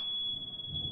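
A smoke-detector-style alarm shrills as one steady, piercing high tone through the whole second, over low rumbling background noise, loud and close.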